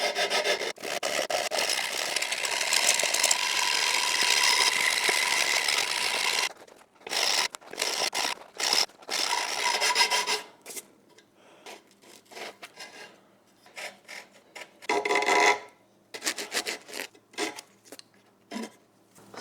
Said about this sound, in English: because I need to file it flat now anyway